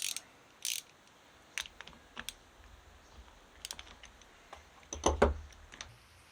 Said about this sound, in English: It's a reverse thread, so I'm going to take my 17 millimeter and remove it.